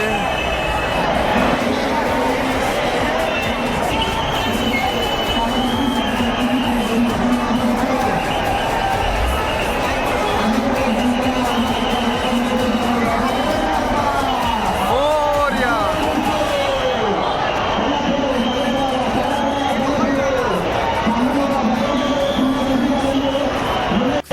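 Dense crowd at Lalbaug, Mumbai, during the Ganpati festival: a continuous roar of babble and voices with traffic noise underneath, loud and unbroken, with nearby talking on top.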